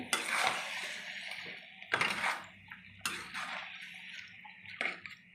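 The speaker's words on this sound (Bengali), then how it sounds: "এবার আমাকে মাংসটা ভালো করে কষে নিতে হবে" Mutton with cumin and coriander powder being stirred and browned in a metal pot: three or four scraping, clattering bursts of a spoon against the pot, separated by quieter gaps, with no talking.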